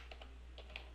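Four quick, faint keystrokes on a computer keyboard, including presses of the Enter key, tap close together against a low steady hum.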